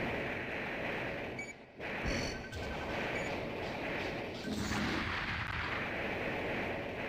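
Rocket launcher explosions in the mech video game Armored Core: a dense, continuous roar of booming blasts and rumbling impacts, loud and sustained with a brief dip partway through.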